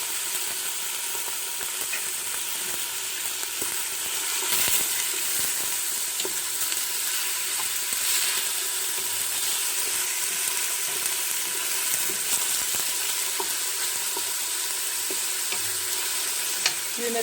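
Meat sizzles and fries in a pot for Moroccan harira soup, a steady loud hiss with occasional stirring clatter throughout, no voices.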